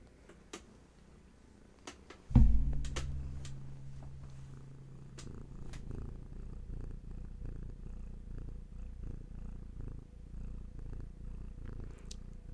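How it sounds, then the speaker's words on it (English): A cat purrs close by in a steady, soft, rhythmic rumble that continues evenly after a brief thump, with no talking. "Let Hattie's purrs bring you back gently"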